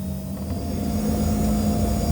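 Steady engine roar inside the cabin of an Eswatini Air airliner during a night takeoff, a constant droning rumble with a faint whine, heard close and continuous without talk.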